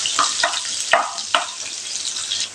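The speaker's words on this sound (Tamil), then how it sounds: "இந்த வெங்காயத்தை நல்லா வதக்கி விட்டுறலாங்க." A large onion sautés in hot oil, a bright sizzle broken by four or five sharp stirring scrapes from a spoon against the pan, close and clear with no voices.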